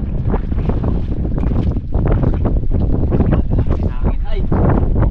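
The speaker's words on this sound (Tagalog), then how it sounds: "Ang hangin." Strong wind buffets the microphone in a constant loud roar, gusting throughout with no clear voices above it.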